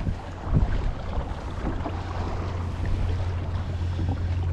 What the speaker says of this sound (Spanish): Se nos encabritó el mar, chavalos.